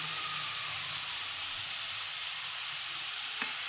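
Cooked dal frying in a hot pan, giving a steady, even sizzle and hiss close up, with a faint clink near the end and no talk.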